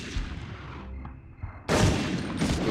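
A gunshot in the Medal of Honor video game, a loud sudden blast that cuts in and rolls into sustained noisy rumble, up close with no talk over it.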